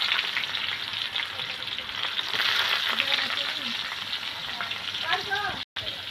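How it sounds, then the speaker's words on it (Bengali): Sliced onions frying in hot oil until browned for beresta, a steady close crackling sizzle that runs the whole time, with a short cut near the end. "পেঁয়াজটা লাল লাল করে ভেজে আমি বেরেস্তা করে নিব"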